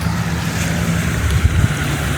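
Strong, steady wind at a beach buffets the microphone with a constant low rumble and roar, with no voices.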